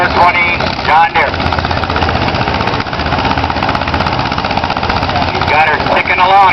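A small John Deere 420 two-cylinder tractor labours at an outdoor tractor pull, a loud continuous engine drone with rough pulsing throb, joined by a crowd-level voice over a public address.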